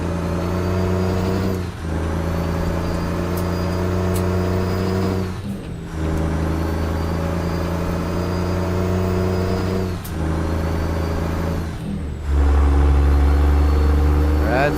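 Video-game Peterbilt 389 truck with a modded 14-litre engine: a deep, steady diesel drone climbing through several long pulls, with short dips at each gear shift and a louder, lower rumble near the end, under occasional talk.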